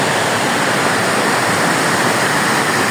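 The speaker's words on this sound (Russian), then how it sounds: "Сегодня течение очень сильное." Limmat river in Switzerland running high and fast after rain and Alpine glacier melt, a loud, steady broadband roar of rushing water that stays constant and close throughout.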